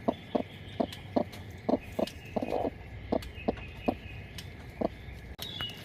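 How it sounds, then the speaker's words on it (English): A brooding hen sitting on a clutch of eggs clucks in a steady series of short, evenly spaced pulses, close and fairly clear, with soft background noise and no talking. "I forgot I had a hen in here sitting on some eggs."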